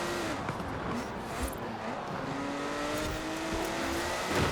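Race cars roar through a street race in the video game Forza Horizon 4, with a Shelby and a Lamborghini Huracán among them. Engines drone steadily and densely throughout, with a rising whine and faint tire noise, close and continuous.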